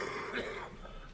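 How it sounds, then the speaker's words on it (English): A single harsh cough bursts out up close in a courtroom during a trial, followed by a rough, breathy trailing sound, with no speech around it. "It's a nasty cough."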